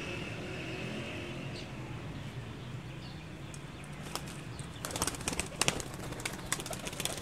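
High-flying pigeons outdoors at dusk: faint, distant bird sounds over a steady background hiss, with a burst of quick, clattering flutters in the final seconds.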